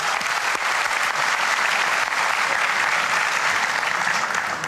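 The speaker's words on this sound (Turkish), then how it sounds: "Gerçekten size ayakta alkışlıyorum." A talent show final audience gives sustained applause, a dense even roar of clapping throughout with no pause.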